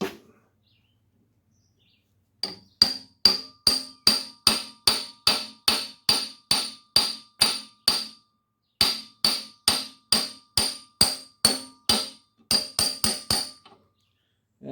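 A truck axle part from an early-1950s Chevy truck is hammered into place with a big socket: a long, evenly paced series of sharp, ringing metallic strikes, close and loud, in three bursts separated by short pauses, no talking.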